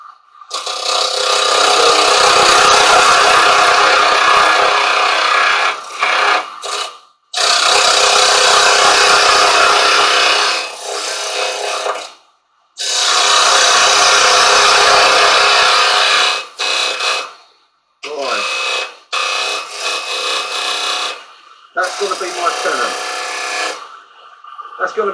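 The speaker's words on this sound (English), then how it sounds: "I'm just going to have a quick go with a square chisel for that" Square carbide chisel cutting a tenon on a silver birch bowl spinning on a woodturning lathe, loud rough scraping and rattling in long bursts broken by short silent pauses, close up, with a voice heard in places.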